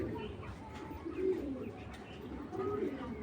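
Soft, low coos from large racing pigeons repeat a couple of times against a faint murmuring background, close but quiet.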